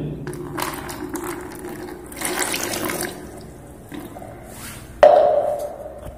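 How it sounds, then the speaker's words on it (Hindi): Water pours into a bucket holding blue dye, with splashy gushing bursts between short pauses and a louder rush near the end; no one speaks. "इसी ब्लू कलर डालने के बाद इसमें हम पानी डाल देंगे"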